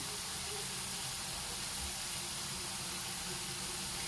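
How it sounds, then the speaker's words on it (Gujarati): Potato chips sizzle and hiss steadily in hot deep-frying oil, a constant bubbling spray of sound with no voices, held at an even level throughout. "આ રીતના આપણે બધી બટેટાની ચિપ્સને તળી લેવાની છે।"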